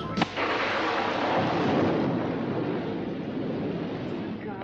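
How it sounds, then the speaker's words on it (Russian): A thunderstorm rolls with a loud crack at the start followed by a long, dense rumble that slowly fades. "эта буря минует"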